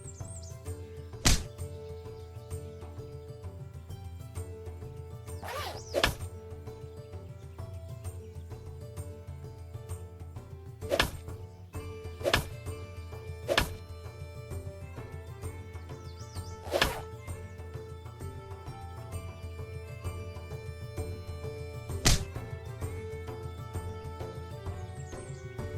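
Chopping in the point-and-click game Kelvin and the Infamous Machine: sharp wooden thunks land at irregular intervals, about nine strikes, over a soft steady backdrop of game music.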